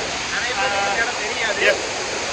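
Water pours down the Narasipuram multi-step waterfall in a continuous, forceful rushing roar nearby, with a brief voice faintly mixed in.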